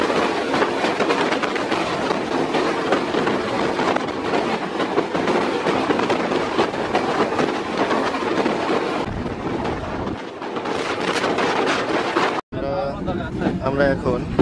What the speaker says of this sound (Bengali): আর ট্রেনটির স্পিড একেবারে দেখুন কতটা স্পিডে যাচ্ছে।